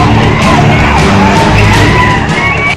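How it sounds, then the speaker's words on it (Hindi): A large, dense crowd gathered in Kairuppala village, Kurnool, for the Ugadi Telugu New Year festival, a continuous loud roar of shouting and whooping voices filling the air without a break. "उगड़ी का उत्सव मनाने के लिए सारे नियम कानून को कुचलती भीड़"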